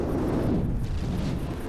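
Missile explosions in the naval combat game From the Depths during a tournament battle: a continuous, heavy rumbling roar of overlapping blasts with no clear gaps, loud and close throughout.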